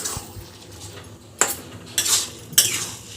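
Cabbage is stirred and mixed with masala in a pan, a fish head daal fry being cooked, with sharp metal spoon scrapes and clanks at intervals over a quiet background.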